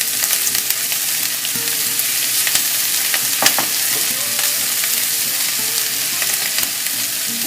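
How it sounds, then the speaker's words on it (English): Onions and garlic sizzle steadily in a hot pan with a bright, constant frying hiss, broken by occasional stirring scrapes and ticks, close and fairly loud. "The onions and garlic have been softening for a few minutes in the hot pan"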